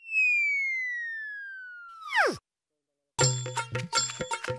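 A falling electronic tone sweeps down, then after a short pause a bright, repeating digital ringtone chimes in quick bursts.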